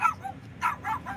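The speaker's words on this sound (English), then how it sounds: "Dog's going totally ape shit on me" Dog barking excitedly at a rideshare driver, several quick yips and woofs in a short burst, fairly near and moderately loud.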